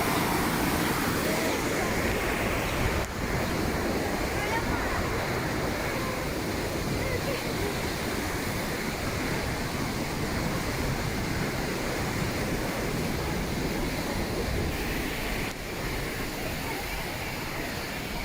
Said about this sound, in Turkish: dar bir boğazdan geçtiği için su çağlıyor